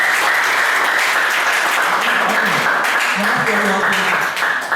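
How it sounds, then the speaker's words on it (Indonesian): An audience at a business seminar applauds, a dense wash of clapping that holds steady for several seconds while a voice talks over it. "Nah, tepuk tangan dong, gini."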